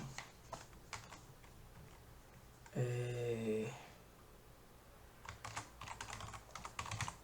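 Keystrokes on a computer keyboard as values are typed into an Excel spreadsheet, coming in quick scattered bursts near the start and end, with a brief tonal hum in the middle.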